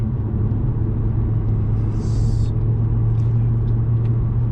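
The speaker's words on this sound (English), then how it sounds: "I love that growl V8s have." A 2017 Chevrolet SS sedan's V8 engine drones throughout in a steady, deep rumble, low and continuous, with a brief higher hiss midway.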